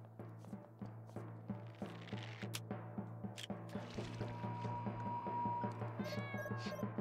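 A cat in the Sea Village of Dave the Diver meows repeatedly, its near, wavering cries rising over a steady bed of game background sound and soft rhythmic clicks, with no talking.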